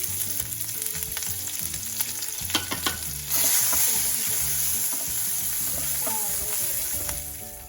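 Capsicum hits hot oil with cumin in a kadhai, bursting into a loud, steady sizzle partway through after some clinks and stirring, the frying continuing strongly to the end.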